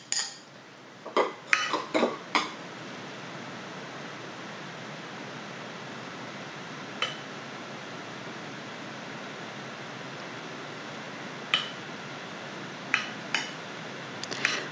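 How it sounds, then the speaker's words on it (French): Mushrooms being set out one by one in a chicken, mushroom and broccoli gratin dish, giving a few sharp clinks and taps near the start and sparse ones later over a steady hiss, with no voices. "Après, je rajoute les champignons et puis je les dispose de la même manière."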